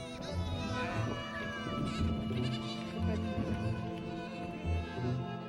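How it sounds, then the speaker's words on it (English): Baby goats bleat over and over in the village of Songa, several wavering cries overlapping into a busy, fairly close chorus with no pauses, and a faint voice mixed in. "the cries of baby goats"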